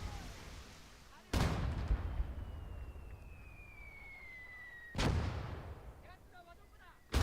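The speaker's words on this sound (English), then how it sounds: "They're trying to mortar my position." Mortar rounds in the video game MACE: three loud, sharp booms spaced a few seconds apart, each with a decaying rumble, with a descending whistle between the first two and faint chatter in the background.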